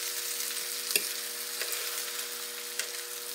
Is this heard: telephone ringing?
no